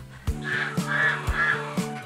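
Farm fowl honk repeatedly at a Bulacan resort where geese, ducks, turkeys and free-range chickens are kept, giving three or four loud nasal calls in steady succession over a low rumble.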